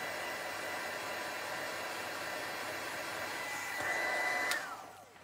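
A hair dryer blows a steady, strong, close airstream to dry craft embellishments on a rustic winter bottle, swelling slightly near the end before being switched off and spinning down.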